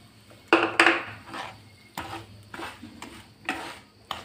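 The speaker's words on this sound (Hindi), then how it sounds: "तब मैं इसमें चावल आटा डालूंगी और इसे मैं अच्छे से भूनूंगी" Rice flour roasting on a low flame with fennel seeds and ghee in a pan, stirred with a metal spoon that gives several sharp scrapes and clinks, quieter shuffling scrapes between them.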